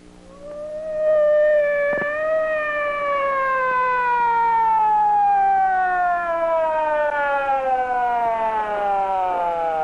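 A parrot imitates a wailing police siren, one long sustained tone that rises and then slowly falls in pitch, loud and close.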